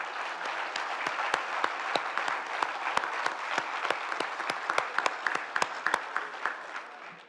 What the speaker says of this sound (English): How about one more huge round of applause for our recipients this morning?